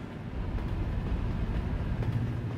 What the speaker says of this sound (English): Damn it, I didn't see the train.